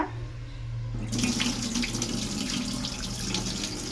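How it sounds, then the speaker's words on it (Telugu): Rice being washed in a sink under a running tap, a steady close rush of water that starts abruptly about a second in and continues without pause. "శుభ్రంగా రైస్ అయితే కడిగేస్తున్నాను."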